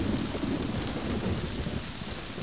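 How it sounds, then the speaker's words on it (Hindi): Steady heavy rain pours down in a dramatic scene, a dense continuous hiss with a deep rumbling undertone and no voices. "अच्छी बारिश हुई है।"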